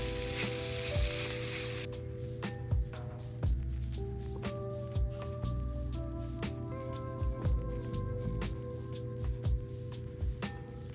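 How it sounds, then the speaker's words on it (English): Sliced bell peppers and onions sizzle steadily in a hot pan for steak fajitas, a dense continuous crackle with occasional sharper pops and stirring clinks, no voices. "the bell peppers already starting, sweating down, and the onions are becoming translucent."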